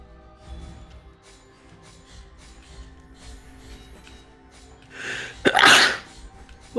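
A single loud sneeze bursts out near the end, close and sharp, over quiet game audio from the action game Blasphemous.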